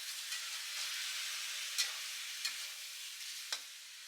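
Chicken pieces stir-fried in a pan for taro chicken, giving a steady close sizzle with a few soft scrapes and clatters as the meat is turned, and no voices.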